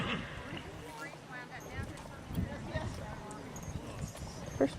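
Endurance race horses arrive at a vet check timer, their hooves clip-clopping in an irregular rhythm at moderate distance, under people talking nearby.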